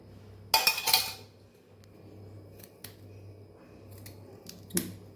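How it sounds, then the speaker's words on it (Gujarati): A metal spoon clinks against a pan as two spoons of oil go in for Kathiawadi stuffed bitter gourd curry: a quick cluster of sharp clinks, then a few faint isolated taps, close and quiet with no talking. "2 ચમચી જેટલું આની અંદર આપણે તેલ ઉમેરવાનું છે"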